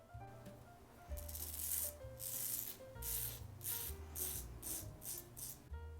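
A razor scraping through shaving lather on a face, making a soft, buttery rasping in repeated short strokes, close and fairly quiet, with no talking.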